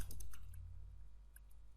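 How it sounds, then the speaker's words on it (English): Quick keystrokes on a computer keyboard while writing CSS code, a short cluster of clicks at the start, a few scattered taps after, and a final keypress at the end, close and fairly quiet. "I'm just simply typing that"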